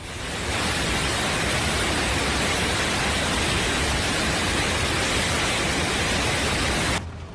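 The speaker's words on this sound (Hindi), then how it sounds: "पानी की रफ्तार और इसका शोर डरा रहा है।" Floodwater in China rushes and roars as a dense, steady wash of broadband noise that stays loud and unbroken for about seven seconds, then cuts off abruptly. No voices are heard.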